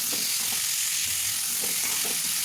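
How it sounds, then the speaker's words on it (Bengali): Cut pointed gourd (potol) pieces frying in hot oil, a steady dense sizzle filling the whole clip, close and loud, with no talk. "এখন আমি এই কাটা পটলগুলোকে তেলের মধ্যে দিয়ে হালকা করে ভেজে নেব।"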